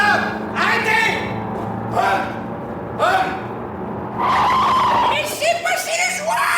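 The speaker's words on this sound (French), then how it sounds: "Il y a une Jeep qui arrive!" A Jeep driven fast through a garage gate, tyres skidding and squealing in repeated bursts over a rumbling engine, with shouting voices in between.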